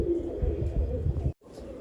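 Low, soft cooing from male Punnu-breed pigeons close by, a steady murmuring rumble that cuts off briefly near the end.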